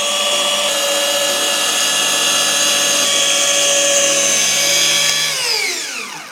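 Power polishing machine running at around 1000 RPM while polishing a sanded surface, a loud steady whirring whine with harmonic tones that winds down and drops in pitch near the end, no talking.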